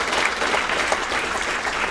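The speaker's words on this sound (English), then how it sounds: "And Ava says give her a big round of applause." Sustained audience applause at a community forum on immigration and refugee rights, a dense, steady patter of many hands clapping for the full two seconds with no talk over it.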